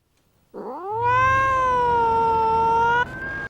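A single drawn-out cat meow, close and loud, rising then holding steady for a couple of seconds before breaking off.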